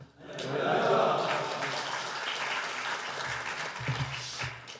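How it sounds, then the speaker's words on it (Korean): A church congregation at an evening prayer meeting claps to welcome a pastor, a swelling wash of applause near the start that gradually softens, with faint voices in the background. "할렐루야로 하나님께 영광 돌리며 박수로 환영하시겠습니다"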